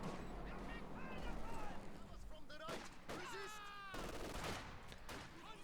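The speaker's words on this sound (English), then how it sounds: "Here comes another shell, gonna hit" A mortar shell lands in a video game battle, a dense crackle and rumble of artillery and small-arms fire running throughout, with voices talking over the continuous combat noise.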